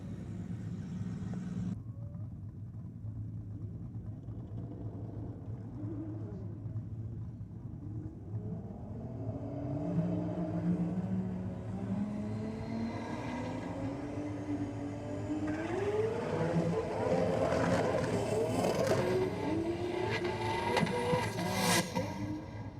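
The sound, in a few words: drag racing car making a pass down the strip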